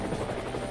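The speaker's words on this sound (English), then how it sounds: "come with me in the chopper" A helicopter in the Minecraft video game, a steady close rotor thrum with a beating pulse running through the short stretch and no break.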